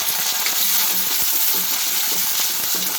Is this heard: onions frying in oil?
yes